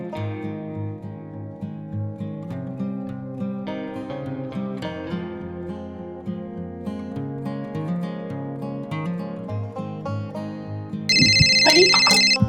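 Melodic tones play steadily, then near the end a loud electronic phone ringtone bursts in, bright and insistent over the music.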